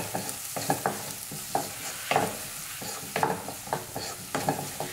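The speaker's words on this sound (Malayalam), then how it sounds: "അതുവരെ നമുക്കൊന്ന് ഇളക്കി കൊടുക്കാം കേട്ടോ ഇടയ്ക്ക്" Onions sautéing in a pan for a lentil curry are stirred at intervals, each stroke bringing a scrape and a brief rise in the steady frying sizzle, with no talk.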